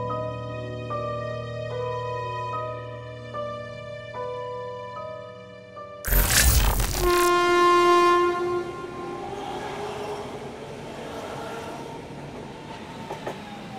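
A train horn sounds in steady repeated blasts, then a loud rush of a passing train with clattering wheels takes over before a long horn tone trails off, all without voices.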